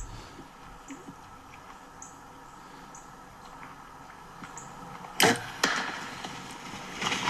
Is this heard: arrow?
yes